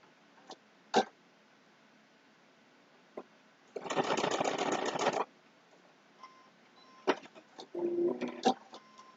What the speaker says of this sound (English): I just did a little stitching here and a little stitching here